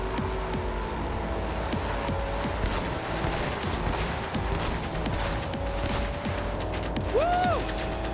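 Rapid bursts of gunfire from a weapon fired while leaning out a car window in Cyberpunk 2077 rattle over a constant engine roar, with a whistling whine rising near the end.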